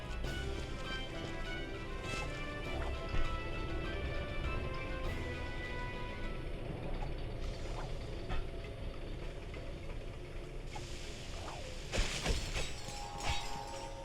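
Crates smash in Ratchet & Clank Future: Quest for Booty on PS3, several sharp breaking crashes scattered over steady game background noise and music, moderately loud, with no talking.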